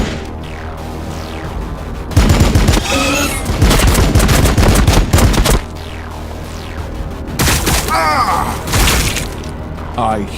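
Heavy bursts of automatic gunfire in a Warhammer 40K video game firefight, two long loud volleys separated by a brief lull, with voices talking beneath the shooting.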